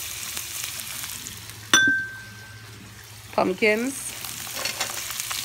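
Onions hit a hot pan with a sharp clink, followed by a low steady sizzle and a brief clatter of stirring, close by, with a person speaking briefly over it.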